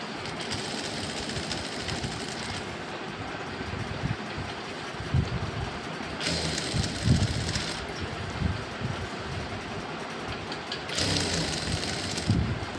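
A sewing machine stitches falls onto a stone-work saree, its steady motor whir running continuously with brief louder bursts, close and alone without speech.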